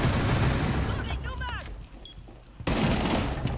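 SMG11 gunfire in Rainbow Six Siege, dense rapid bursts of shots that break off midway into a brief quieter gap, then resume abruptly, loud and close with voice chat underneath.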